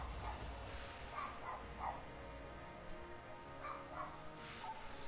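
A pet dog making a series of soft, short whimpers and yips spread across several seconds, faint and distant over a low steady background hum.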